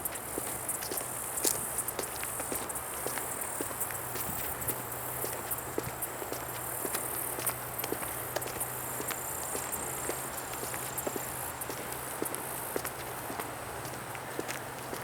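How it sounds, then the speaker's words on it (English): Tree frogs call in a continuous high, shrill chorus from open woods beside a marathon route on the Outer Banks, heard steadily under the patter of passing running footsteps. "I'm hearing tree frogs."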